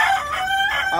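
An Australorp rooster crows among farm chickens, one loud, close, drawn-out call with no other sound competing.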